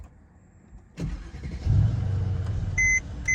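A Mercedes E55 started by keyless go: a click, then the engine cranks and catches into a steady low idle, close and fairly loud, followed by two short electronic beeps from the car.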